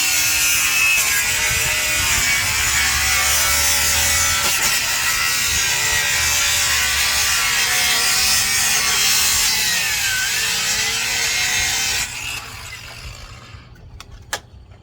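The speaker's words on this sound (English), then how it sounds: "And then I'm just going to go ahead and cut this piece off." A piece of vinyl siding being cut with a tool, giving a loud, steady rasping cut that runs for about twelve seconds before it abruptly stops, leaving a quiet tail with a couple of small clicks.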